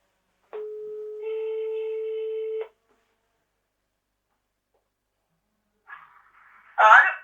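A telephone call's ringing tone sounds as one steady electronic tone of about two seconds that changes slightly partway through, then stops. After a pause, a voice answers briefly.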